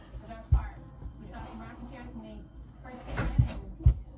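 A door is opened and slammed shut in a home, giving a few sharp low thumps between bursts of conversation, with people talking throughout.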